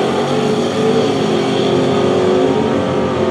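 A 1970 Dodge Charger R/T V8 at a drag race roars loudly and continuously at close range, a steady heavy engine rumble with no talk over it.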